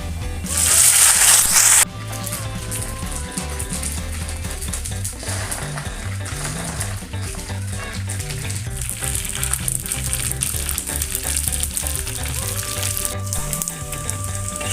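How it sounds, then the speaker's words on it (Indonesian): Loud, steady sizzling of anchovies frying in hot oil, with occasional stirring clatter, close up and continuous throughout. "Oke, lanjut kita goreng teri ya Bunda."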